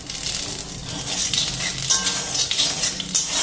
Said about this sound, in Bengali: একটু জিরা ফোড়ন দিয়ে নি